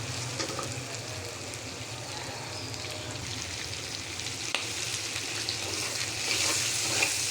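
Small cut pieces of ilish shrimp fry steadily in a pan with softened onion, giving a close, even sizzle and crackle that runs unbroken throughout and swells slightly toward the end.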